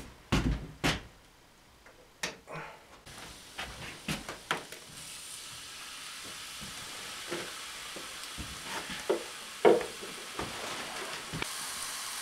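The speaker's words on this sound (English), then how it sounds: "and then I'll throw the steak in there." A lean steak and nearly cooked potatoes in a pan at a log cabin give a low, steady sizzle and fry, broken by sharp clanks and stirring knocks as the cook works.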